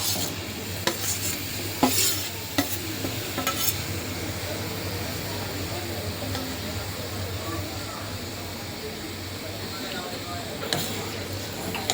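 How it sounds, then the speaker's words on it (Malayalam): Shallow-frying in hot oil while making a spicy pickle, with a soft steady sizzle underneath and occasional scrapes and clinks of a spoon against the pan, no talking. "ബാക്കി നമുക്ക് ഇതേപോലെ എണ്ണയിലും ഒന്ന് വഴറ്റിയെടുക്കാം."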